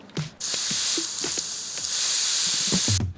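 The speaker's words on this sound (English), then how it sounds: "deflate the tire a little by pushing the pin in the tire's nozzle" Air hisses out of a bicycle tire valve as the pin in the nozzle is pressed, a steady, close hiss lasting about two and a half seconds with no talking.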